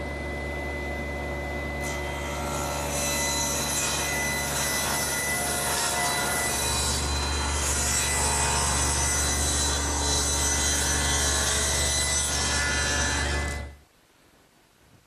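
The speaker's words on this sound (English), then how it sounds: "So I've set up my table saw, tilting the blade to 10 degrees and setting the rip fence. 2 passes on each stringer will do it." A table saw with its blade tilted to 10 degrees rips a bevel along a wooden fence stringer, giving a loud, steady whine and cutting roar that holds for about thirteen seconds and then stops abruptly.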